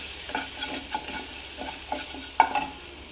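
Fish curry powder is gently fried in a pan over a low flame, with soft, quiet, rhythmic scraping strokes of stirring and a faint sizzle underneath, ending with one sharper clink.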